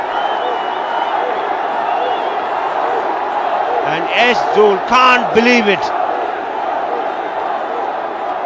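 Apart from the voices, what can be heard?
cricket stadium crowd roaring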